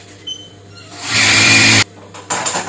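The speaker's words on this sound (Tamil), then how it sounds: "எக்ஸ்ட்ராவாக ஒரு தையல் இந்த ஓரங்களெல்லாம் போட்டுட்டு" A sewing machine runs a quick burst of stitching along the edges of a blouse, a loud steady whir lasting under a second, followed by a short second run, close up with no talking.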